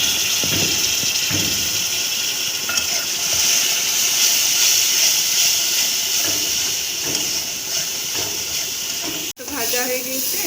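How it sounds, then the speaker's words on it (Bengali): Ground spices with Kashmiri chili powder and a little water fry in a pan, giving a constant bright hiss and sizzle that runs evenly for several seconds, then breaks off in a short sharp clatter near the end. "মশলাটা দিয়ে আমি একটু ভেজে দেবো আবার ভালো করে।"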